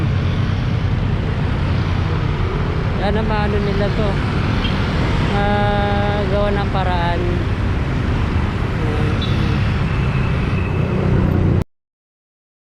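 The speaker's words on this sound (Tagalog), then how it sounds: "Sobrang daming mga sasakyan." Heavy road traffic near the LRT1 Dr. Santos station in Parañaque rumbles steadily, with several close car horn toots around the middle and a voice talking over the din before it cuts off abruptly.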